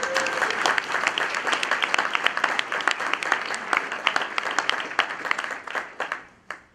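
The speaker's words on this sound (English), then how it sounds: "Please give these folks a round of applause." An audience at an awards ceremony applauds, a full round of many hands clapping with distinct individual claps standing out, steady for several seconds before thinning to a few last scattered claps at the end.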